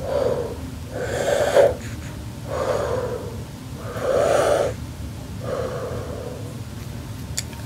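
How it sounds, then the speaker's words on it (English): Deep breaths drawn in and pushed out in a slow, steady rhythm, about five close, airy, wheezy swells over a faint background hum, with no talking. "Breathe in."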